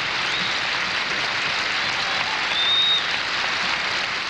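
Sustained arena applause rolls on at the 1978 U.S. Figure Skating Championships after a free dance, a thick, continuous wash of many hands clapping at constant volume with a slight swell near the end.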